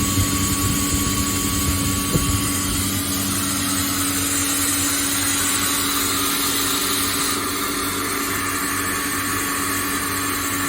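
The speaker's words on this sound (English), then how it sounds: "Let's check the compressor. It's still loading." Kaeser screw air compressor running loaded at around 10 bar, a steady loud mechanical drone with a whining hum, unbroken and close for the whole stretch, no voices.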